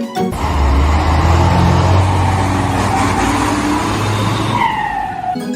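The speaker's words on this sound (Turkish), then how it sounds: "Bu bir tır. Tırlarda yük taşımak için kullanılır. Tırlar da bu şekilde ses çıkartır." A semi-trailer truck's engine rumbles steadily and loudly up close, a sustained low drone that continues throughout before easing off at the end, with no talking.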